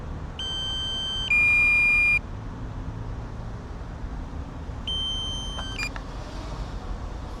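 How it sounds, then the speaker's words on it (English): Shrill electronic warning beeps from a drone sound in short bursts, a long tone then a stuttering cluster, over a steady outdoor hum. "it's annoying beeping started now"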